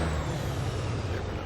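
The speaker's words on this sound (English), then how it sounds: "Let's get on the parking brake." Parking brake air release on a semi truck in the American Truck Simulator game, a steady loud hiss of escaping air with low rumble beneath, continuous through the short moment with no talking.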